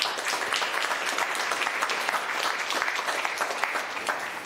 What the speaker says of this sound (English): our panel, please give them a warm round of applause